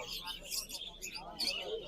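Small caged birds at a bird market chirp and tweet in quick bright bursts, fairly faint, with murmuring voices in the background.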